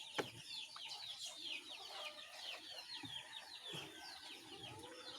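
Pet chickens clucking after a bath, several birds giving overlapping soft clucks and short calls nearby, fairly quiet, with a few scratchy rustles.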